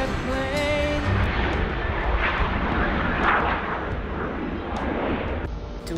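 A jet airplane roars loudly and continuously overhead, its rumble broken by sharp booming bursts.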